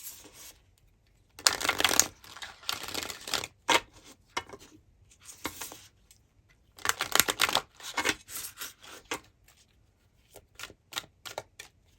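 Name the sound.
tarot cards being shuffled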